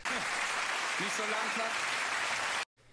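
Studio audience applause on a German talk show, a steady, dense wash of clapping for a few seconds that cuts off abruptly, with a faint voice underneath.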